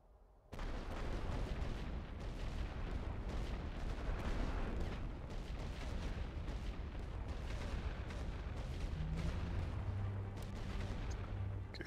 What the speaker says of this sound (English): Ordre de tir de barrage.